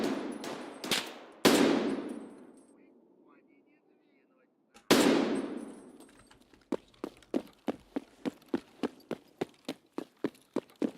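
Video game combat: two loud grenade blasts with long decaying rumbles, followed by a steady run of sharp gunshots at a regular rhythm, close and loud with no talk.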